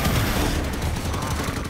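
Sustained weapon fire in the Halo 5: Guardians video game: a dense, continuous burst of rapid gunfire with booming low end throughout, loud and close, with no talking over it.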